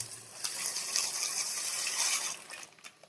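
Dry macaroni pours into a pot of boiling water, giving a continuous hissing, rushing splash for a couple of seconds that trails off into a few light clicks and bubbles; no voices.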